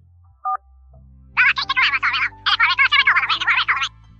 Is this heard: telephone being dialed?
yes